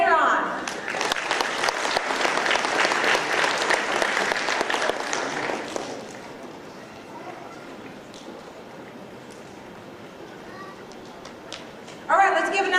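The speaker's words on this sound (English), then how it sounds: "let's give another round of applause" An audience at a school board meeting claps for about six seconds, a dense burst of applause that fades into a quiet room before voices briefly start up near the end.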